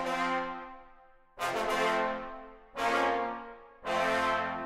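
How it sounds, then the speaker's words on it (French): A trombone plays raw, unequalized notes: three or four sustained, bright brassy tones with strong attacks, each held about a second and fading slightly before the next, heard alone and up close. "voici un son de trombone brut sans aucune égalisation"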